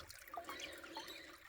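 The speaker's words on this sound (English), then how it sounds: "It's good having running water here" Running creek water flowing steadily close by while gravel is panned for gold, a soft continuous trickle and wash with no voices.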